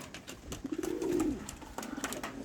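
Homing pigeons cooing in an aviary, one soft low coo rising and falling near the middle amid faint background rustle and light tapping.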